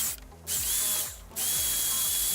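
Power drill boring large holes into a Subaru BRZ front bumper for a splitter install, a close high whir running in steady bursts with short pauses between them, and a faint rhythmic clicking underneath.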